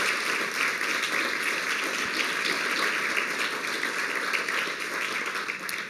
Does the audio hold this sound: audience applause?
yes